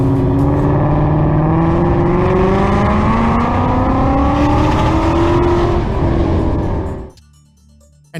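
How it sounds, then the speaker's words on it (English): A tuned Mustang accelerates hard through a police chase, its engine a loud, sustained roar climbing steadily in pitch through the gears for about seven seconds, then cutting off abruptly. "It's packing some serious power as we see him accelerate to insane speeds"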